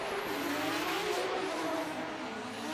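A drift car revs hard under heavy throttle during qualifying at the D1NZ New Zealand Drift Championship at Baypark, with a loud, sustained engine roar and a rising whine that stays close throughout.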